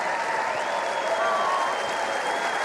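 Big crowd at the Melbourne Comedy Gala applauding, dense steady clapping filling the whole stretch at a strong level with no pause.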